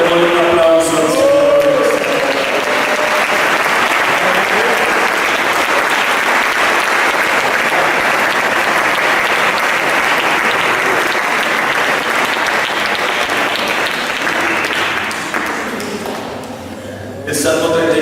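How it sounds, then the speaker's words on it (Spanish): A large church congregation applauds loudly and steadily for about fifteen seconds before the clapping fades, with a voice speaking briefly at the start. "Démosle un aplauso al Señor."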